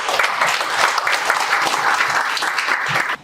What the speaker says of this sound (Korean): 대류가주의 전예라 변호사님을 큰 박수로 맞이해 주시기 바랍니다.